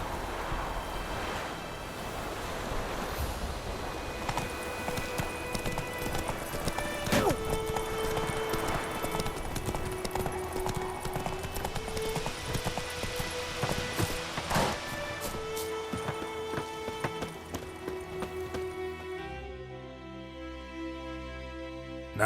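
Roach, the horse in The Witcher 3, trots with steady rhythmic hoofbeats over game music and ambient wind, close and moderately loud, until the gait stops near the end.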